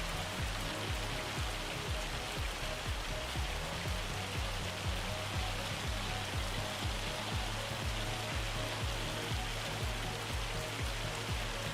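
Hail in Farming Simulator 25 hammers down in a dense, steady patter of rapid impacts, loud and continuous for the whole stretch with no talk.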